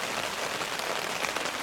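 Steady rain drums on a tent in the woods during a bear hunt, a dense even hiss of drops pattering close on the fabric with no pauses and no voices.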